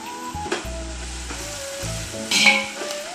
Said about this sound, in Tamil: இஞ்சி பூண்டு வதக்கும் போது அது அடி பிடிக்காமல் இருக்கிறதுக்கு கொஞ்சமாக நம்ம தூளுக்கு சேர்த்து நல்லா வதக்கலாங்க